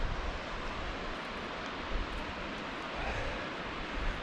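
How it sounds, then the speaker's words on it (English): A winter waterfall made of a series of cascades in snowy mountain forest, heard as a steady, broad rushing roar of water with no breaks, fairly faint and distant, alone without voices. "more of a series of waterfalls rather than just one"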